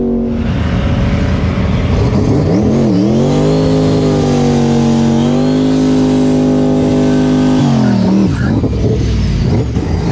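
A twin-turbo pickup truck and a Tesla Plaid line up to drag race, a loud engine drone climbing and revving steadily in pitch with a couple of dips, close and continuous for the whole stretch.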